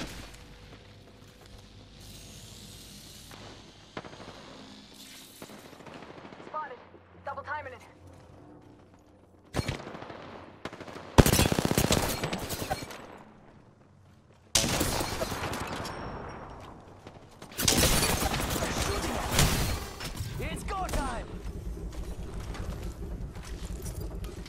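Video game gunfire breaks out in several loud, harsh bursts and sustained volleys between quieter stretches of wind-like rumble, with players talking throughout.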